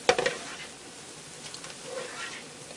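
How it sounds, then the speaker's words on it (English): Minced fresh garlic dropped into beef and onions frying in a Ninja 3-in-1 cooking pot, with a quick clatter of a utensil against the pot, then a soft, steady sizzle. "I have a clove of garlic here that I minced up fine. I'm going to add that in there."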